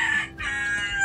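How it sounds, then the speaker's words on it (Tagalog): A rooster crowing in the Philippine countryside, one brief, close, fairly loud call heard alone. "At may nagparamdam na rin na manok."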